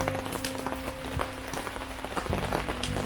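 Heavy rain falling steadily at a lakeside campsite, a dense, continuous wash of drops with occasional louder patters on a nearby surface, close and even throughout.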